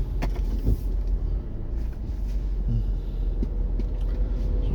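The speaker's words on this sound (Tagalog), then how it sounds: "Here we are on a typical Cebu morning rush hour traffic." Morning rush hour traffic on Mango Avenue in Cebu City on a rainy day: a steady, loud rumble of cars and buses with passing engines throughout, and no voices.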